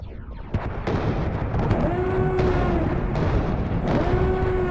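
Heavy cannon fire from a Venator capital ship in the WARNO Star Wars mod, a dense stream of booming, rumbling blasts that rolls on without letup, with a sustained tonal whine riding over the battle.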